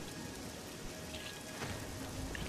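Rain falls in the video game Elder Scrolls IV: Oblivion, a steady, dense patter of drops on surfaces filling a short stretch with no speech.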